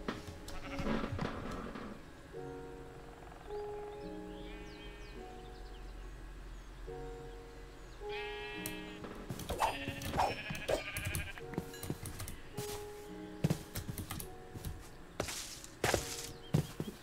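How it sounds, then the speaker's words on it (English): Sheep in the Minecraft-style horror survival game Horror Craft bleat repeatedly, with wavering cries over a low hum, then give way to clicks, chopping hits and sharp game effects. "I'm just gonna kill the sheep."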